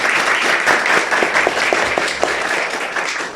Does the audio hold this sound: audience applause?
yes